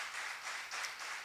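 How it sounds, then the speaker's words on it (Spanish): Church congregation clapping together in a sanctuary, a dense, even wash of many hands applauding in gentle swelling pulses, moderately distant with no voices over it. "Vamos a dar un fuerte aplauso a todos esos hermanos."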